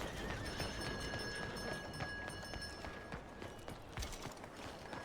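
In Red Dead Redemption, a horse's hooves clop along steadily at a moderate pace amid game ambience, fairly quiet, with a faint whinny-like tone.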